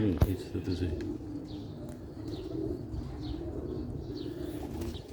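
Black-faced Sialkoti pigeons coo softly and repeatedly, low and close, while someone talks over them.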